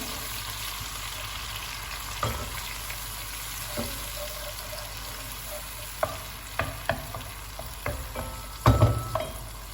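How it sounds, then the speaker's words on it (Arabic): Tomatoes and garlic fry in a pan for a sauce. A constant crackling sizzle is punctuated by sharp spoon knocks and scrapes that grow louder and more frequent near the end. "هنا الطوماطيش تاع الحب لازم تقليوها مليح في الاول"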